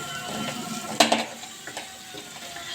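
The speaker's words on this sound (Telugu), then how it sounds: "ఇలా కొత్తిమీర కూడా వేసేసుకొని ఒకసారి బాగా కలపాలి" Mango pulihora rice mixed with coriander in a pan: soft scraping stir strokes with one sharper clink of the spoon against the vessel, close and moderately loud, with no speech.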